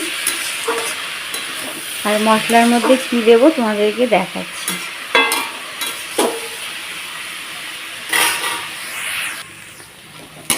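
Bottle gourd being stir-fried in a pan for a curry with mung dal gives a steady sizzle and scraping stirs, while someone talks over much of it.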